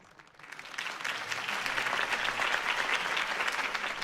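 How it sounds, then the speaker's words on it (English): A crowd bursts into applause after a campaign speech in the Batman video game, the clapping swelling quickly into a dense, sustained ovation that holds steady and loud throughout. "If only Mr. Wayne, my campaign's largest backer, could have heard that applause"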